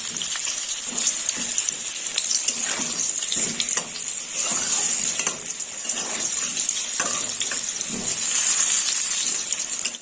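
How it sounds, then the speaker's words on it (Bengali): Potatoes sizzle and crackle as they fry in hot oil, with bursts of spattering and a few scraping stirs, close and fairly loud with no talking. "আলুগুলো প্রায় ভাজা হয়ে গেছে, একটু উল্টে দেবো।"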